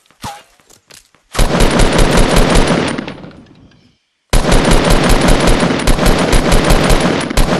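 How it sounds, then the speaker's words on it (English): Loud, close automatic gunfire in a video game rattles out in two long rapid bursts, separated by a brief silent pause, with a few sharp single shots before the first burst. "he's getting shot now too"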